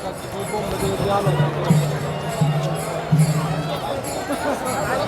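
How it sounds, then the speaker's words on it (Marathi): Large crowd of pilgrims gathered at the swollen Chandrabhaga river in Pandharpur during the Ashadhi Wari, a steady hubbub of many voices with a few louder calls rising out of the crowd noise. "खूप गर्दी आहे"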